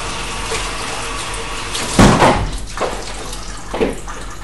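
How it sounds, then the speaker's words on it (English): A blender part is rinsed under a running tap, steady water flow with a couple of louder splashing bursts as the piece meets the stream, close by. "rinse this shit straight away"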